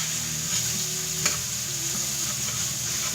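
Sausage fries in a pan on the stove with a continuous close sizzle and crackle, one sharper tap midway, and a steady hiss with no voices.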